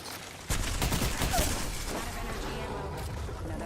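Rapid burst of gunfire in a ranked online shooter, a dense crackling volley that starts abruptly and carries on steadily at moderate loudness with game effects beneath.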